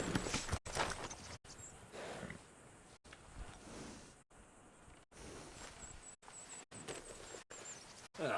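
A horse being groomed in the video game Red Dead Redemption II, with soft brushing and shuffling hoof sounds at low volume, broken by brief gaps of silence.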